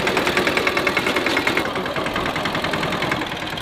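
A tractor engine runs steadily on an off-road track, a loud, close, rumbling drone with a fast rhythmic pulse throughout and no talk over it.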